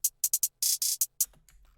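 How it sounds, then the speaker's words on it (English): Hi-hat pattern programmed in FL Studio for a chill trap beat, layered with the same hi-hat pitched lower at reduced velocity: crisp short ticks and a few longer, sizzling hits in an uneven rhythm, about nine strikes, heard alone. "at the end we have this cool thing where we layered it with the same hi-hat with a lower pitch"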